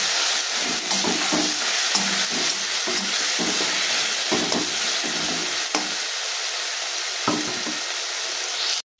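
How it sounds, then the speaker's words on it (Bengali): Spice paste with salt and turmeric sizzles in hot oil for a fish curry, a loud, steady frying hiss broken by soft scrapes of stirring, before cutting off abruptly at the end. "এবার আমি মশলাটা খুব ভালোভাবে কষাবো।"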